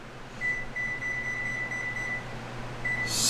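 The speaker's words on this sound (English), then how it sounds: "So I'm going to set my timer." A kitchen timer being set, giving a quick run of short, high electronic beeps followed by one more beep; faint and close against a quiet kitchen background.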